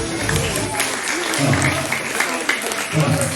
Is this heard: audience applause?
yes